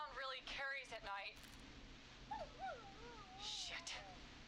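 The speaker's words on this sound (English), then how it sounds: "Is that a neighbor's dog?" A neighbor's dog in the Killer Frequency game gives a few whimpering, yipping calls with wavering pitch, mid-distance, after a stretch of speech.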